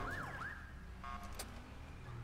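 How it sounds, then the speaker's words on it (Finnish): A police car siren in the FiveM GTA V game wails briefly in a rising-falling sweep, then gives a few short electronic yelps, loud over low engine rumble. "Ota sireeni pois niin ei lähtee."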